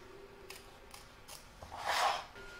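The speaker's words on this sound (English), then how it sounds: "I'm going to trim up my excess fabric around" Scissors snip through excess fabric around an embroidery hoop, several soft close cuts followed by a longer slicing snip, with quiet room tone.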